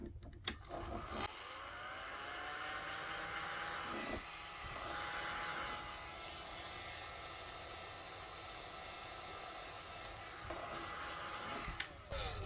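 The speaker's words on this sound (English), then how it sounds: "I'm just going to use my hairdryer or a heat gun actually, and then just gently heat the top." A heat gun or hairdryer gently warming the top of an object gives off a steady, even whooshing hum that runs unbroken from start to finish at moderate level, after a brief click at the start.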